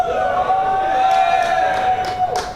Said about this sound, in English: Let's get a cheer from the crowd.